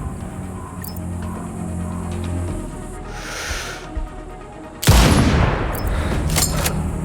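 Gunfire and an explosion in the video game Sniper Ghost Warrior Contracts 2: scattered distant shots crackle over a low rumble, then a sudden loud blast erupts, followed by more sharp shots as the rumble fades.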